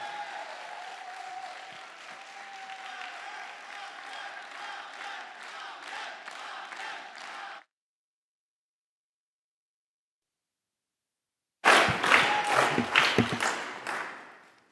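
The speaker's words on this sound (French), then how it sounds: "un tonnerre d'applaudissements, s'il vous plaît, pour Marianne Guilbert" Crowd applause at a left-wing political rally in Lomme, with dense clapping for about seven seconds, a silent gap, then a louder, rougher burst of clapping and cheering near the end.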